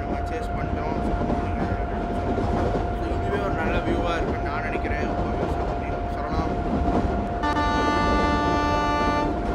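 A steady rumbling train roar with a constant tone, ending in a loud sustained horn blast, from a local train simulator game; a voice speaks under the noise.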